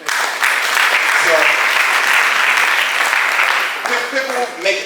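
A lecture audience claps loudly and continuously, the dense applause thinning out near the end as a few voices start to speak.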